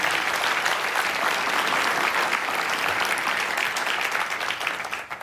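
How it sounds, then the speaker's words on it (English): An audience at an exhibit design awards ceremony at the CONEXPO-CON/AGG 2026 trade show breaks into dense, continuous applause, loud and even throughout before thinning slightly at the close. "Let's all give ourselves a round of applause for that."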